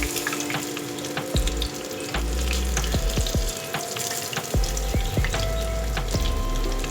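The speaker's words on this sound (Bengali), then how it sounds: "এবার আমি মাছগুলোকে ভেজে নেব।" Katla fish frying in hot oil gives a continuous moderate sizzle and crackle, with the pan scraped and knocked by a utensil several times as the pieces are moved; no speech is heard.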